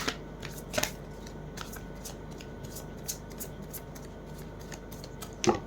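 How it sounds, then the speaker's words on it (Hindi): Tarot cards are shuffled by hand, with soft rubbing and sliding under a low steady background hum, punctuated by a few sharper card snaps at the start and end. "लास्ट शफल, ये लास्ट शफल है।"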